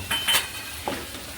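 Bitter gourd curry with jaggery being stirred in a pan, with a soft sizzle and a few scraping clinks of the spoon over a short stretch, close and alone.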